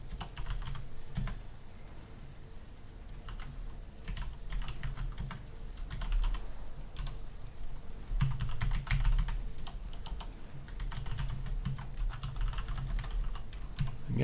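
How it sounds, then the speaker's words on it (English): Steady, close computer keyboard typing during a Star Wars Galaxies (SWGEmu) PC gaming session, a continuous run of quick clicks and clacks over a low background hum. "Yes, I'm just typing all these into my sheet."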